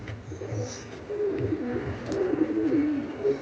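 Pure Andhra and Ablook Dobuz pigeons coo in soft, low, throaty rolls that repeat through the moment, close by over a steady background hiss, with a few faint higher chirps.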